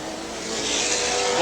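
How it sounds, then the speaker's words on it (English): A Porsche Turbo race car, number 2, roars past at speed during the 1982 IMSA Camel GT race at Lime Rock, a loud steady broadband engine and tire rush swelling slightly as it nears. "Now you're looking at John Fitzpatrick in car number 2. This is the Porsche Turbo."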